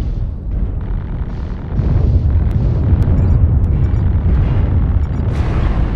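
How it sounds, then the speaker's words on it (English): Artillery strike explosions in the video game MechWarrior Online: a loud, continuous barrage of deep booming blasts that rumble together into a dense roar, with a few sharp cracks on top. "artillery strike online"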